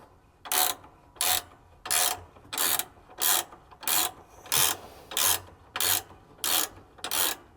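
Fakro LST steel attic scissor ladder being cranked down, a steady series of about eleven evenly spaced ratcheting rasps, each roughly half a second, close and loud with no talking.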